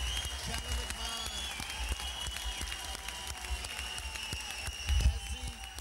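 A boxing crowd at a Victorian welterweight title bout applauds in a faint, distant patter of clapping, mixed with crowd murmur, low rumble and tonal hum, while a voice talks at times.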